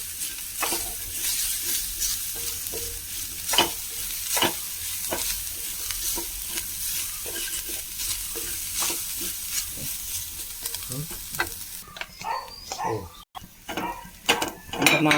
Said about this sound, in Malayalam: കുറച്ച് വെളിച്ചെണ്ണ ഒഴിച്ചിട്ട് നന്നായി വറുത്തെടുക്കാം